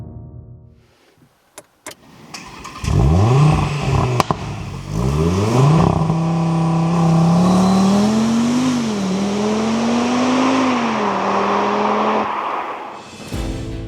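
A 2026 Audi RS3 Competition Limited with its 2.5-liter five-cylinder engine starts with a few clicks, then revs loudly and climbs through several rising pulls before holding a high, warbling rev close by.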